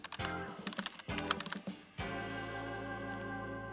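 Keys clack on a computer keyboard in quick irregular bursts as a keyword is typed, close and clear, followed by a steady hum.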